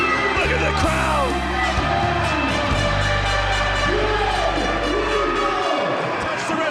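A large wrestling arena crowd cheers and yells loudly and continuously after a new champion is crowned, with whoops and bellows rising over a dense wall of noise, some low thuds early on, fading at the very end.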